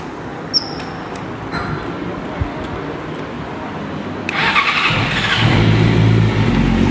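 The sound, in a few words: 2019 Yamaha R6 motorcycle with aftermarket exhaust revving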